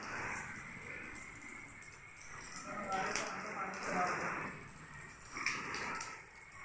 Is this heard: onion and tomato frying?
no